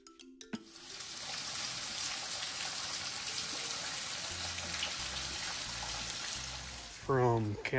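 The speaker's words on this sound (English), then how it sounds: "And it even has a wet weather waterfall." At a rock shelter on a Red River Gorge hike in Kentucky, a wet weather waterfall pours in a constant rushing splash. A voice comes in briefly near the end.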